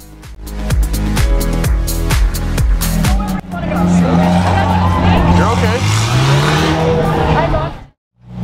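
A straight-piped McLaren screams around a track, its loud exhaust rising through rapid upshifts, then a sustained high wail as it passes before dropping away to near silence, with people talking.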